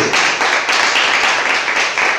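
A church congregation claps for the Lord after a sermon, many hands applauding together in a loud, steady, close wash of clapping with no break.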